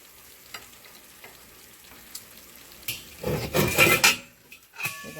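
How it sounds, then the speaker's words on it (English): Chicken pieces browning with garlic in a frying pan, quiet at first, then a louder burst of sizzling and stirring with a clink of utensils around the middle, easing off toward the end. "we are going to let these all brown down into the pan"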